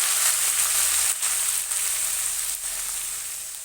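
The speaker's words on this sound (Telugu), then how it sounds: "అలాగే అందులోనే ఇగో మన పాలకూర, ఉల్లిగడ్డ, పచ్చిమిర్చి వేసేస్తున్నాను." Spinach, onion and green chilies fry in a pan with mustard seeds and cumin, making a steady, close, bright hiss with a couple of brief dips in the sizzle, and no voices.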